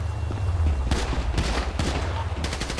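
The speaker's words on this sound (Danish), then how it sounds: "Vi bliver beskudt ved PD-parkering." Bursts of gunfire rattle across a police station parking lot in the FiveM game, several loud volleys of sharp shots in quick succession over a low rumbling engine-like drone.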